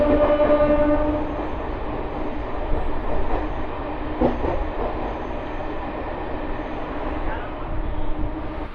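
Rumbling noise of an LTT Visakhapatnam Express train runs steady through the stretch, with a faint horn-like tone at the start and a brief clank partway through.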